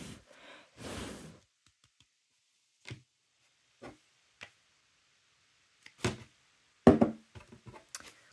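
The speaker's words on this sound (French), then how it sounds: "Je souffle un peu dessus." Short puffs of breath blown onto a freshly poured navy blue wax seal to cool it, several brief soft bursts spaced apart with quiet gaps between them.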